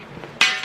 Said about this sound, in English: sorry about that, I'm on a glass table